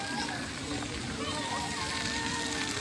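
Water sprays and splashes steadily at a park splash pad in Summerlin, Las Vegas, on a hot day, a constant hiss of falling water with children's voices in the background.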